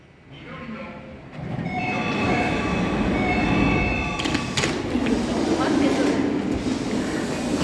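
Commuter train running from Tokyo toward Tsukuba, heard from on board as a steady rumble that builds, with a high whine and rail noise and a brief sharp squeal partway through.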